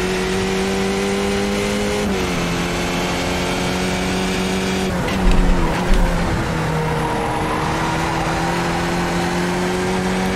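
Skip Barber open-wheel race car engine in iRacing at the Long Beach street circuit, loud and close throughout, with pitch drops as it shifts and brakes, then revving back up on the power out of a corner.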